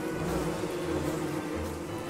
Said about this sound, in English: And now I'm being chased by killer bees, and it's dark.